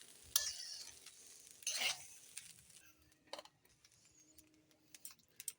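A utensil scrapes and stirs rice frying in a pan in a few quick bursts, with faint sizzling and light clinks between strokes.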